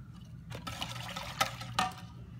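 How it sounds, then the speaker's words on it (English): Homemade root beer is poured from a jug into a container while brewing with kids, a close, gurgling splash that swells in a few surges over a couple of seconds. "take this and pour this into here"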